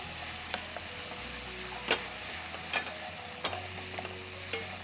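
Fish masala sizzles steadily in a hot pan, with a spoon or spatula scraping and stirring through it at irregular moments. The frying is close and continuous, and no one speaks.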